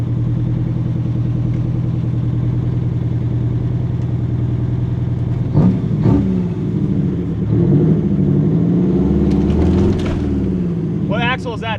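The engine of a 1983 GMC General truck, recovered after long neglect, runs with a steady, loud, low droning hum. Voices and clatter come in over it during the second half.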